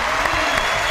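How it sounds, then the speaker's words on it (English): An audience gives a round of applause, a dense and loud burst of clapping from many hands that fills the whole short moment without pause. "let's give him a round of applause for that"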